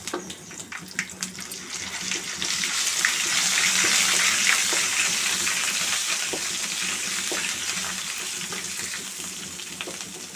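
Seasoning for sambar sizzles steadily in hot oil with curry leaves, asafoetida and ginger-garlic, a continuous close frying hiss that swells slightly and holds.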